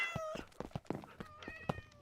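Several cats meow in a house where many cats and dogs are kept, with short repeated cries in quick succession at close range and no talk.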